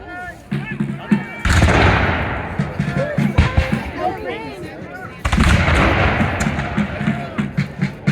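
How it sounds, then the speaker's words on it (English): Musket volleys from soldiers firing by groups at a Revolutionary War battle reenactment of Guilford Courthouse, heard as loud outdoor bursts of gunfire at about 1.5 and 5.3 seconds, with crowd chatter and voices throughout. "they're able to keep continuous gunfire heading to the British"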